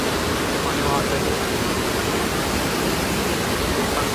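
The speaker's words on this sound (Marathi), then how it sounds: "जंगलात पाणी वाहत आहे." Rainwater flowing through a forest during monsoon rain in the Mulshi hills near Pune makes a loud, steady broadband rush, continuous and close throughout.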